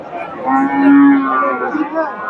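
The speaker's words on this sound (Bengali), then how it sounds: "ফ্রিজিয়ান ষাঁড়।" A Friesian bull moos once, a loud, drawn-out bellow close by at a crowded cattle market, with faint chatter beneath.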